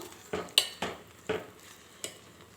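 A spoon scrapes and taps in a pan of wheat rava prasad a few times, short separate strokes in an otherwise quiet kitchen.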